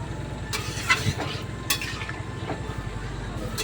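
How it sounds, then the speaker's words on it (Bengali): A spoon stirs spices into a watery crab and pointed gourd curry in a pot, making soft scrapes and a few light metallic clinks over a low simmer, close and quiet. "এবার একটু নাড়িয়ে মিশিয়ে দিচ্ছি মশলাটা"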